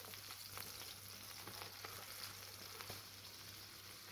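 Beef burger patties fry in a grill pan with a steady, moderate sizzle and faint crackles, a low mains-like hum running underneath, no voices.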